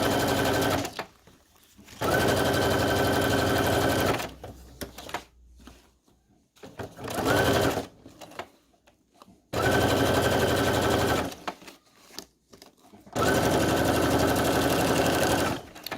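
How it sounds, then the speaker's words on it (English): A sewing machine runs a straight stitch around the front of a fabric Halloween pocket in loud, close bursts of rapid needle clatter, with about four long runs separated by quieter pauses and a few shorter spurts. "I'm just going to let you hear the sound. I'm okay with the sewing sound."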